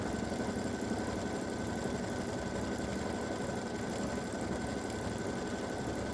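An embroidery machine stitches an edge-to-edge hummingbird and hibiscus quilting design at 700 stitches per minute, producing a steady, rapid mechanical chatter and hum throughout at close range, with no voices.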